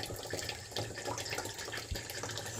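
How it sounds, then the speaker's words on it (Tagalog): Water from a hose fills a container with a steady, soft splashing and trickling, faint and close, with a few sharper drips standing out. "Parang idinugtong na yung hose. Tumutulo."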